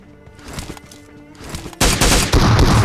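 PUBG gunfire at Georgopol: a burst of rapid in-game shots, muffled at first, then louder, dense fire over the last second.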